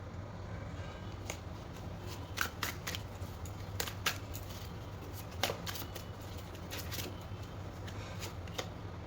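Tarot cards being shuffled, with crisp riffling snaps and sharp flicks scattered across a quiet, steady background hum; close and fairly soft, with no voices.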